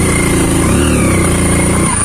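A motorcycle engine runs steadily nearby with a low, even rumble on a road to Shri Keshavanatha temple, Moodugallu, holding roughly constant for the whole stretch.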